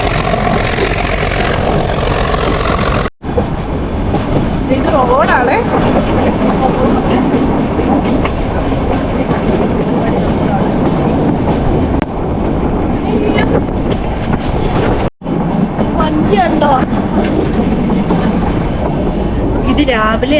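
Riding the Ooty to Mettupalayam toy train: a loud rolling rumble of the carriages fills the ride, broken by two abrupt short cuts, while someone talks over the noise.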